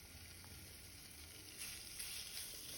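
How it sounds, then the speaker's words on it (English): Faint steady sizzling of bacon frying in a pan without oil, a constant hiss that grows slightly louder toward the end. "start frying our bacon"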